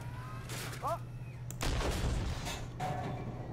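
A tank cannon fires a high-explosive shell in the Armored Warfare video game, a single loud boom with a long rumbling tail over a steady low engine hum, followed by fainter game effects.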